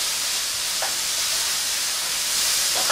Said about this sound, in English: I'm going to stir my vegetables up here.